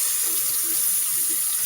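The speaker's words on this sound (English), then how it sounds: "I'm going to rinse the sink" A kitchen water tap runs steadily into a sink being rinsed, a constant close splashing hiss with no talk.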